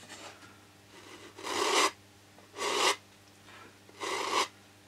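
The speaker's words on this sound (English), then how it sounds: "This is a little stick that I've glued some sandpaper on" Sandpaper glued to a small stick rasps against wood while recessing a hinge seat, three distinct short scrubbing bursts with brief pauses between, close and moderately quiet over a low hum.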